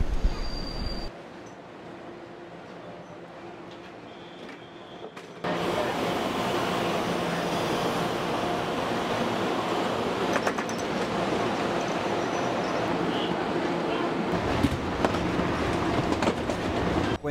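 A passenger train running from Taipei to Yilan on Taiwan's east coast, heard from onboard as a steady, loud rumble and rattle of carriages on rails that continues throughout, after a quieter opening.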